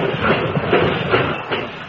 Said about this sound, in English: That's about the way the first railroad locomotive must have sounded when it made its first run back around 1830.